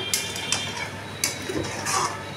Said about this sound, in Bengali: এবার নাড়াচাড়া করবে।